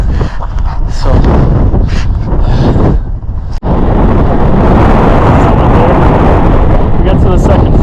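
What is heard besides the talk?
strong wind on the summit of Mount Elbert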